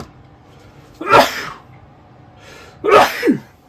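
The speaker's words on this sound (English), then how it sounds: "So, sneeze." Two sharp sneezes, close and loud, about two seconds apart in a quiet room.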